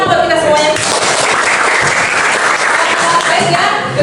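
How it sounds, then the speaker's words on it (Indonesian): Steady applause from a classroom of students during a teacher's lesson, dense continuous clapping throughout with voices faintly mixed in. "Oke, tepuk tangan dong buat kita semuanya."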